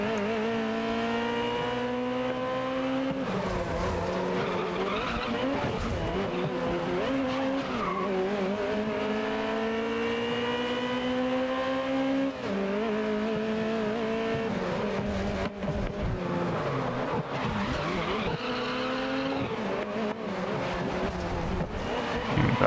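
Race cars in the video game GRID (2019) scream past while overtaking, engines rising through the gears with tire squeal and skids, loud and continuous throughout.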